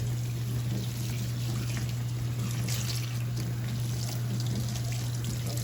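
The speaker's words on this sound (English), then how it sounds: "Let me rinse that out." Water runs and splashes steadily as sand is rinsed out of a cast iron skillet, a continuous close trickling and pouring wash with a low steady hum beneath, no voices.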